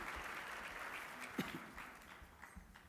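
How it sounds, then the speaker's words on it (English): An audience at a business hall of fame ceremony applauds board members, a faint, distant patter of clapping that thins out over a few seconds. "Let's give them all a round of applause,"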